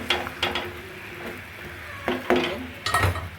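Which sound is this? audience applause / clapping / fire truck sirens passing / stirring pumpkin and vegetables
stirring pumpkin and vegetables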